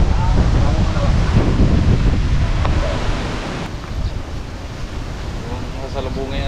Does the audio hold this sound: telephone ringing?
no